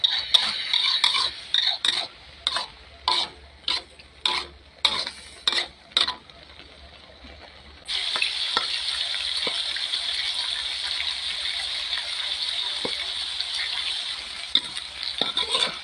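Eggs stir-fried in a pan with pork, first a run of separate scraping, tapping strokes of a utensil against the pan, then a steady close sizzle with occasional clicks.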